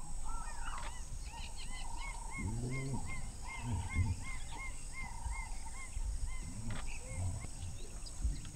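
Leopards mating in a tree at a grass edge give deep, rasping growls in a few short bursts, heard moderately close over a steady chorus of birds and insects.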